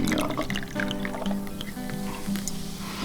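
Bubbly mineral water and elderberry shrub are poured into a glass on a kitchen counter, fizzing and splashing steadily at close range with light background noise.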